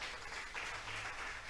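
A church congregation gives sustained applause during a Spanish-language service, with dense, even clapping that sounds fairly distant and soft throughout.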